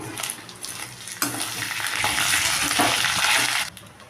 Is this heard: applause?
no